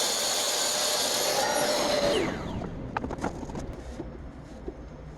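A power saw cuts a 4mm acrylic sheet into side panels for a wall cabinet, giving a loud, steady whining rasp for about two seconds before cutting off, followed by faint scattered clicks and handling noise.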